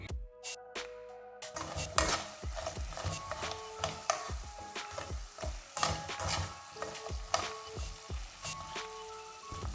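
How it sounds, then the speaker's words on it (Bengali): Egg-based snack (kotkoti) frying in oil and stirred with a spoon, soft sizzling under repeated close metallic scrapes and clinks against the pan in an irregular rhythm. "চামচের সাহায্যে যখন লাল হয়ে আসবে এদিক ওদিক সবসময় অনবরত কিন্তু নেড়ে ছেড়ে দিতে হবে"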